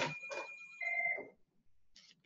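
A telephone rings alone indoors, a few brief electronic trills that stop as the call is answered.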